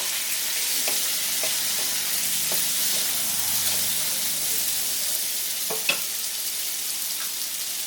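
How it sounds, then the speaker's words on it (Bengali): Potatoes and carrots fry in a pan for a quick breakfast pulao, giving a steady, close sizzle with a few sharp stirring clicks and scrapes scattered through, and no voices over it. "এবারে দিচ্ছি এর মধ্যে আলু আর গাজর সবজিগুলোকে ভেজে নেব"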